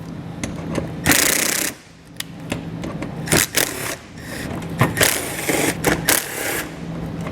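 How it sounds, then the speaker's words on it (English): Rapid bursts of a power tool with an 8mm socket removing bolts from behind the front bumper of a 2021 Ram 1500 pickup, loud and close, broken by short pauses and metallic clicks. "We need to remove those using an 8mm socket."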